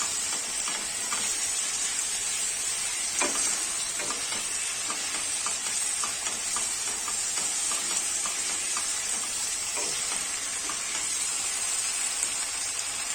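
Capsicum chicken masala fries in a pan with a constant, hissing sizzle. Regular spatula scrapes and taps tick through it at close range as the mixture is stirred.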